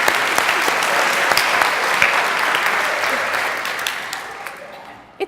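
A church congregation applauding its members born after 2000: a full, dense round of clapping across the sanctuary that stays steady, then gradually fades as the claps thin out, with one last sharp clap at the end.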